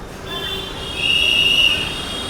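Chennai Express train pulling out of Perambur railway station, a steady rumbling roll with a sustained high metallic wheel squeal swelling midway, heard from on board with no talking.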